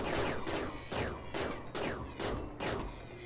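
Rapid volleys of gunfire during a raid in RimWorld: about six loud, sharp bursts in a steady rhythm, each followed by a brief decaying tail, with no talking.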